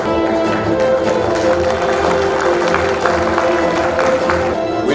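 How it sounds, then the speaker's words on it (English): An audience at the Guwahati Food Awards 2020 ceremony claps steadily for a winner, a dense, even patter of applause filling the hall with faint crowd murmur underneath. "A big round of applause for Tokin Domin."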